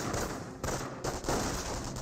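Gunfire in Company of Heroes, a dense, continuous fusillade of rapid shots that runs throughout with brief dips, loud and steady with no clear pauses.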